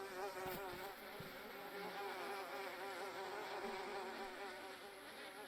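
Bees buzz around a beehive in a DayZ video game mod, a dense, steady insect drone that fills the whole stretch at an even level with no talk.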